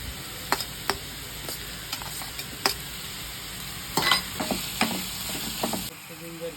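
Onion and tomato frying in a pan, a constant sizzle broken by repeated scraping clicks of a spoon stirring, fairly close, with no talking.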